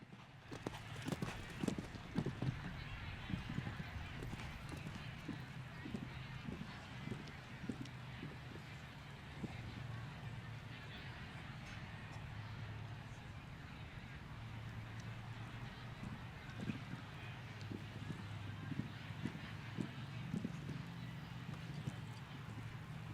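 A horse's hooves clip-clop across the arena during a show jumping round at the Great American Million 2017, part of the HITS Triple Crown. The steady, rhythmic thuds come and go under a commentator talking.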